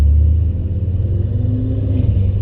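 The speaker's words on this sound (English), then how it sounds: "it sounded most likely like it had a full exhaust and downpipes, just the turbo whistle and the V8" A BMW M6 Gran Coupe V8, apparently with full exhaust and downpipes, rumbles deeply as it drives off, a low, steady, fairly loud engine drone with no clear turbo whistle and no voices.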